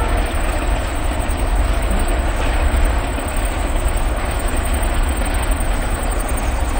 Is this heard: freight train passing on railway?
yes